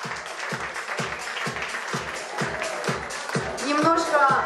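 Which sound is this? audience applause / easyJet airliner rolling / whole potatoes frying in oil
audience applause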